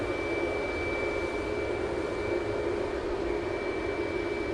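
Jet airliner taking off at Sydney Airport, a faint, steady engine roar with a thin sustained whine running throughout, distant and unbroken.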